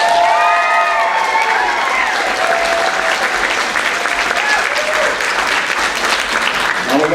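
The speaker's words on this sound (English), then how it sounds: "How about a huge, huge round of applause for Miss Yvonne Blake, everybody." Audience at a community theatre production by the Harbor Town Players breaking into loud, sustained applause with scattered cheers and whoops, continuous and dense throughout.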